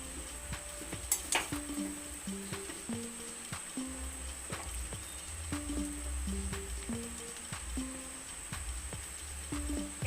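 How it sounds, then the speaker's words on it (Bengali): Food being stirred and mixed in a pan, a spoon knocking and scraping in a steady repeated rhythm of clinks and taps over a soft background hiss, close by with no talking. "খুব ভালো করে মিক্স করে নিতে হবে।"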